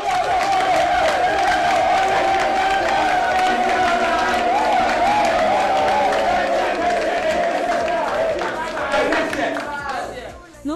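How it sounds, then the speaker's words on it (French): Large crowd cheering and clapping loudly, a sustained roar of applause and shouts that holds steady before trailing off at the end. "Sur vos acclamations, s'il vous plaît."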